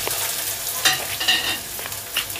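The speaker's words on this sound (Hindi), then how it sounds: "मैंने कढ़ाई, मेरा तेल गरम हो रखा था। अब डालूँगी प्याज।" Onions hit hot oil in a kadhai and sizzle loudly, close and steady, with bursts of crackle as they settle and are stirred. No voices are heard.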